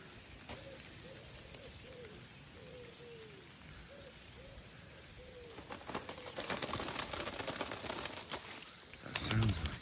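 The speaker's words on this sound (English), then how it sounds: "That sounds like a kite flapping in the wind, but it's not. It's pigeons fornicating." Pigeons cooing in a low repeated series, then a stretch of loud flapping and fluttering from mating pigeons, close and rustling, with soft background noise.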